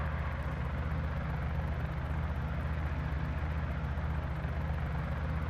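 A Cabri G2 helicopter engine runs steadily at about 2000 RPM during a magneto check, producing a constant close, loud rotor and engine drone with an even low throb and no talking.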